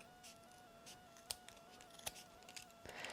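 Scissors snip the end pieces off a ribbon bow, giving a few sharp, close cuts spaced apart over a quiet background with a faint steady hum.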